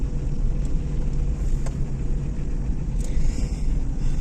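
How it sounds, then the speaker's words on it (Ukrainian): A car with a faulty engine approaches and passes, heard from inside a Jeep on rough off-road ground as a low, steady rumble under the cabin noise, with a brief rise as it goes by. "нам на зустріч іде автомобіль з несправним двигуном."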